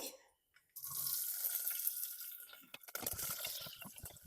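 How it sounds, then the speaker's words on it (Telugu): A kitchen tap runs steadily while green chillies are washed under it. After a brief quiet start the close splashing continues, with occasional drips. "పచ్చిమిర్చి కడిగి తడి లేకుండా చేసుకోవాలండి"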